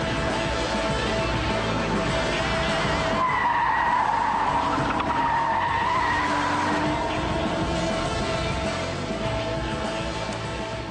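Audi RS4 Avant tyres squealing as the car understeers through corners on the Alton Park racetrack, a loud sustained screech over steady engine roar that swells in the middle and runs continuously throughout.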